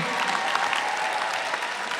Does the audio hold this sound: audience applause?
yes